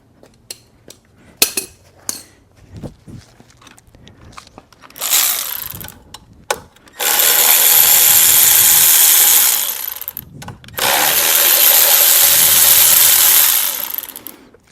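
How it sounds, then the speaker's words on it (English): A power tool whirs in two sustained bursts as an electric ratchet spins water pump bolts off a GM Ecotec 1.4L engine, preceded by scattered clicks and clanks of tools, close and loud. "we'll use an electric ratchet to spin them off"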